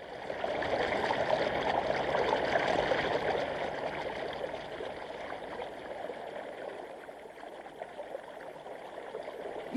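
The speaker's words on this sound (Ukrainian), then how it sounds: "дивися, як швидко тече вода" Rushing water of the Ronneby river in an animated series flows continuously with a steady broadband hiss and churn, loud at first and easing slightly later on.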